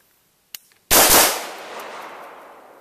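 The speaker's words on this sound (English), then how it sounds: "lets out two fast rounds, no recoil" Carbine fire outdoors: a faint sharp crack, then a loud blast with a long rolling echo that fades over about two seconds, with no talking.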